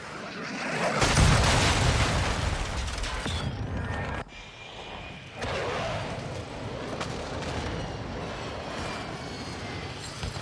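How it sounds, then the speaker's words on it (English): Cruise missile strikes in Call of Duty Modern Warfare 2, heavy rumbling blasts and roaring jet-like noise filling the scene, loud and sustained with a brief dip midway before the roar resumes. "Hostile cruise missile launched."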